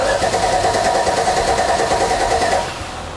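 A high-compression Toyota 40 series four-wheel-drive engine runs at a steady idle, a loud continuous mid-pitched drone with even pulsing that eases slightly in level near the end, with no talk.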